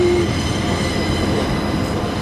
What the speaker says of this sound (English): there's another freight train coming in on the other track